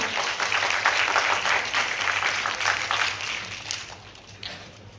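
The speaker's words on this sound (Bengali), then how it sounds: "একটু করতালির শব্দ শুনতে চাই।" An audience at a World Drowning Prevention Day event applauds steadily, a dense continuous clapping that stays loud for several seconds before gradually thinning out.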